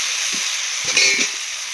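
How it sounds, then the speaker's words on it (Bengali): Boiled peas and potatoes fry in a spice paste in a pan with a loud, steady sizzle and a few soft stirring scrapes close by. "সামান্য নুন, ভালো করে আমি কষে নেব"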